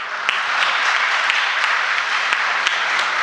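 A crowd at a patriotic poetry recital gives a burst of steady, dense applause. The loud clapping holds evenly across the short stretch, with a few sharper claps standing out.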